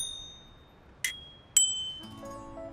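A small bicycle bell gives two bright, separate dings, the second louder, followed by faint tinkling tones.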